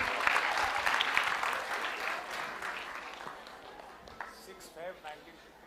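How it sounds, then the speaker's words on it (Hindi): Quiz show audience at a Dev Anand event claps in a fading round of applause, while a voice talks over it toward the end. "तालियां जोरों से बजनी चाहिए,"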